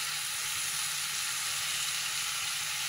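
Minced mutton keema hisses in a hot pan for a mutton gravy, a dense, even sizzle close by that holds steady from start to finish, with no voices.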